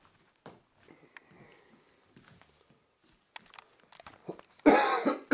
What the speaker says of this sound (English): Excuse my coughing, because like I said, I got a bad cold.